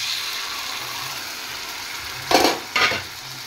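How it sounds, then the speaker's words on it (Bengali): Cooked fish reheating in a frying pan gives a steady, close sizzle, with two short bursts of louder stirring scrapes near the end and no voices. "এবার মাছটা গরম করে নেব।"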